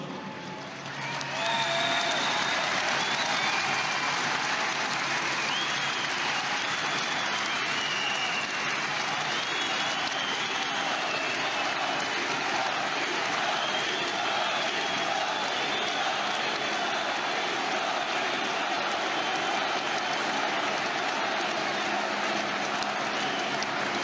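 A large outdoor crowd at Johnny Hallyday's funeral tribute applauds in a sustained, dense wash of clapping that swells in early and holds steady, distant and crowd-wide, with scattered cheers.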